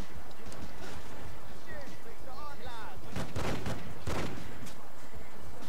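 Gunfire rings out in the video game Crime Life: several loud, broad bursts of shots arrive close together near the end over a busy game soundscape, and a voice talks over it.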